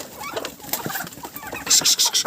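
A hen on a farm with rabbits and ducks gives soft, irregular clucks close by, with a few brighter chirps near the end.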